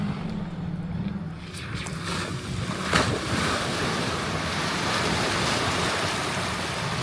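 A 2025 Toyota Tacoma Trailhunter splashing through water off-road, a broad rushing wash of spray and churning water with wind buffeting the microphone, and a sharper surge midway as the truck pushes through.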